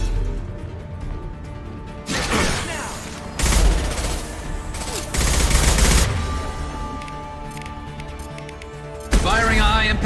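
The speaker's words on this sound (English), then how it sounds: "Firing a high-impact shot!" Video game gunfire bursts out in loud, sharp volleys and rapid automatic bursts with mechanical clatter between, including a high-impact shot near the end; character voices may be mixed underneath.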